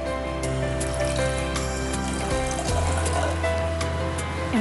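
Half a cup of water pours into a pan of sugar to start a caramel sauce, a steady close-up stream of liquid that shifts in tone partway through the roughly four-second pour.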